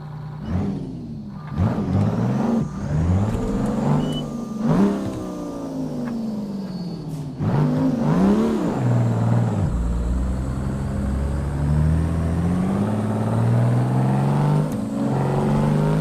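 A truck engine in American Truck Simulator revs up repeatedly, climbing in pitch through several gear changes before settling into a loud, steady high-RPM drone, close and alone without talk.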